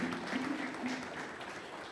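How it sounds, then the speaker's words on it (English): An audience applauds at a business seminar session, a steady wash of clapping that fills the space for a couple of seconds and fades slightly toward the end, with a faint voice beneath. "All right, clap for them."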